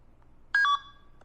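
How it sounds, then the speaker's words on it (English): A phone call to a pre-foreclosure lead being dialed, with a short pair of clear electronic tones, close and fairly faint, over a quiet hum. "should be dialing right now. It says ringing"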